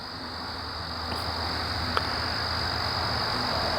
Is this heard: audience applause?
no